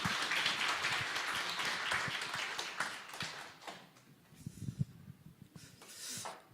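An audience at a church evangelism camp forum festival claps to welcome a pastor to the stage, a steady burst of applause that fades into scattered claps and a few taps.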